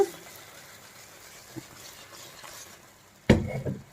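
A clay pot of fish curry shaken on the stove: a quiet simmering hiss, then a sudden sharp clatter and sloshing rattle near the end as the pot is jostled.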